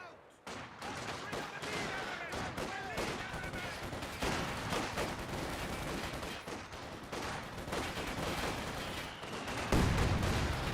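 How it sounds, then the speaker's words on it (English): Mortar fire and impacts in a Company of Heroes 2 match, dense battle noise with rapid gunfire bursts and thudding blasts, a heavier boom near the end, all under continuous commentary talk. "Great mortar hit there on the Volks, forcing them back"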